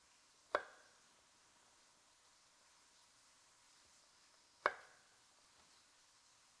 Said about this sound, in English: Slice off this little rotten piece of garlic.